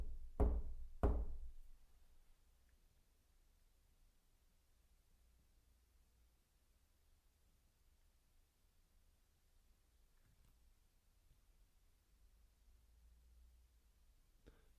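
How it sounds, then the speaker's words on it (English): Sharp knocks on a surface inside the old Mill Street Barracks building in St Helens: a quick close pair of raps at the start, then a long stretch of near silence with faint room noise. "Can you copy me? I'm going to knock 3 times."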